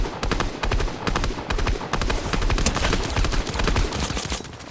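Rapid bursts of video game gunfire crackle in quick, dense volleys, loud and close, with short gaps between strings of shots and no clear voice.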